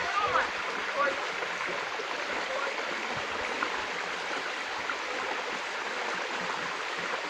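A small river and spring babble steadily outdoors, a continuous close rushing of water with no breaks.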